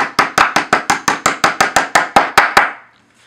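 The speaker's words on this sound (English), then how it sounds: "Let me hammer it little bit." About thirteen sharp, evenly spaced hammer blows drive a part of an IKEA Malm desk into place, close and loud in a quick steady rhythm, then a short ringing decay into quiet.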